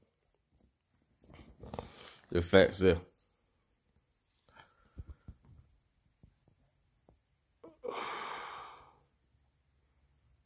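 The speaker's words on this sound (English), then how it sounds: "just want to show y'all my little bulldog puppy" An English Bulldog puppy makes soft whimpers and snuffling breaths between bursts of human speech, ending with a louder breathy huff.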